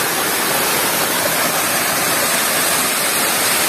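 Steady roar of a waterfall near Pekon Puralaksana, Way Tenong, Lampung, heard close and loud as a dense, unbroken rush of falling water with no voices over it.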